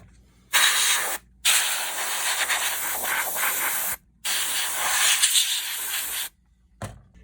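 Compressed air spray squirted into a PS4 disc drive to clear dust, three long hissing bursts separated by short pauses and a final brief puff, close and fairly loud.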